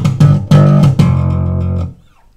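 A slapped electric bass plays bar two of a groove: a few sharp, punchy plucked attacks with sustained low notes, played alone and close, then ringing out into silence.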